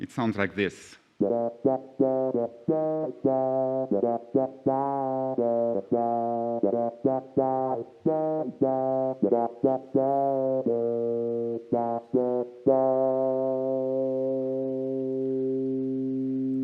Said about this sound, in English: You know the effect called auto-wah?